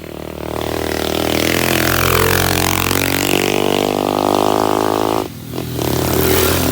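A motorcycle engine drones loudly and steadily nearby on a concrete road, pitch rising and falling, with a brief dip and clatter near the end, in Mansalay.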